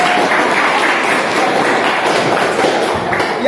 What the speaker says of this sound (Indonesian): Tepuk tangan dong buat Ali dong.